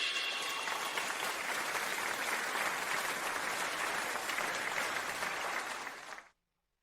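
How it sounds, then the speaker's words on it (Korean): Audience applause welcoming a young AI researcher to the stage at a formal event, a dense, steady roar of clapping held at full strength for about six seconds before cutting off abruptly. "이제 열렬한 박수와 함께 강유님을 모시겠습니다"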